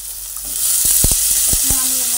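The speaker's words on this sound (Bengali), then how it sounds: "আলু আর সব মশলা একসঙ্গে ভেজে নিচ্ছি" Potatoes and spices frying together in a pan, cooking ridge gourd malai curry, sizzle steadily and loudly up close, with several distinct scraping knocks of stirring.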